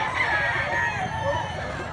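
A black-legged bullstag gamecock crows at a Cebu poultry setting, a sustained, fairly loud call that fills the whole two seconds against a steady background.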